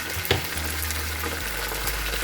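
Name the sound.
stirring ginger garlic paste into biryani masala in pan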